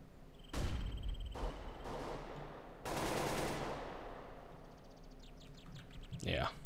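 CS:GO decoy grenade mimicking gunfire: a few sharp bursts of rapid shots, separated by short pauses, then a longer burst, fairly loud against a quiet background with faint chirps.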